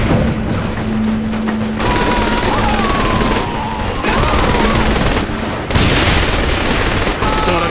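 Sustained automatic gunfire during a heist shootout in Saints Row: The Third Remastered, loud and continuous for the whole stretch. Shouted voices and an engine-like whine sit in the background.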